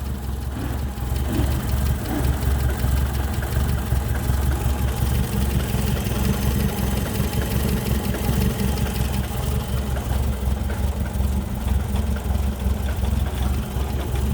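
A 1985 Ford Fiesta XR2 engine, fitted with a manual choke conversion, idles steadily close by: a continuous low rumble with a faint vibrating hum and no talking.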